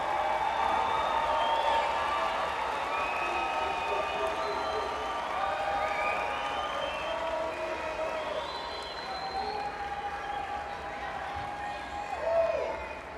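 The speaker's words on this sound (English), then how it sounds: "show your appreciation with a big round of applause for the people who have loved you" Sustained applause and cheering from graduates and a large crowd at a high school commencement ceremony, steady and dense for the whole stretch with scattered whoops rising above the clapping.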